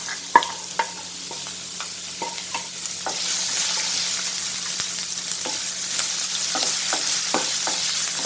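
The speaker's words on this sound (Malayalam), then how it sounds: "ഇനി നമ്മളൊരു ചെറിയ കഷ്ണം ഇഞ്ചി അരിഞ്ഞതും വെളുത്തുള്ളി അരിഞ്ഞതും കൂടി ഇട്ട് കൊടുക്കാം." Chopped ginger and garlic frying in a pan for Kerala-style curd chilli pickle, with a steady sizzle broken by scattered clicks of stirring from a spoon against the pan, close and alone.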